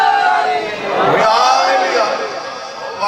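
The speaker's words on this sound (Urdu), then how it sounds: "جب تک ہر بندہ نعرے میں شریک نہیں ہوگا میں نے آگے نہیں پڑھنا" A large crowd of many voices chants a religious slogan in unison at a 13 Rajab Jashan gathering in Kabirwala, loud and close, swelling to a peak midway before easing off.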